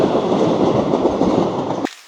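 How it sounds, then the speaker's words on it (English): A train rumbles loudly past on a railway track at close range, a steady dense roar with clattering wheels that cuts off abruptly near the end. "As another train passes by"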